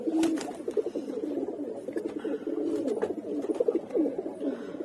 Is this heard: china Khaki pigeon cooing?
yes